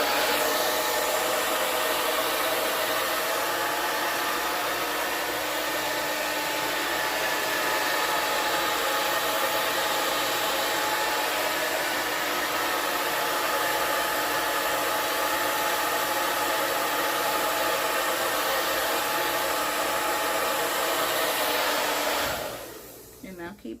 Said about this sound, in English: we're gonna use blow dryer